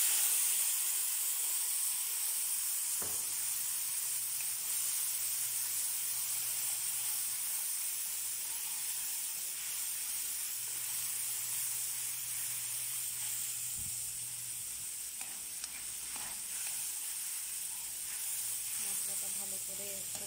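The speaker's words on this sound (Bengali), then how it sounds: "মশলাটা ভালো করে কষিয়ে নেব।" Spice paste sautéed in a pan for a fish dish, giving a steady, close sizzling hiss that runs throughout over a faint low hum.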